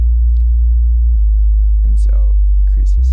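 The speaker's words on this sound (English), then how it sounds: "I'm going to make this a sine wave and modulate it by 2" An FM synthesizer plays a steady, loud low sine tone modulated by a ratio of 2, holding a constant pure pitch throughout, with brief faint vocal sounds near the end.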